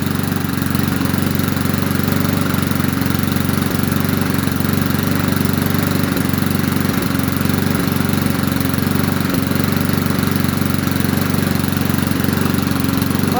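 A 2002 Rally push lawn mower engine runs at a steady, loud drone throughout, a constant chugging rumble with a few faint knocks and no talking over it.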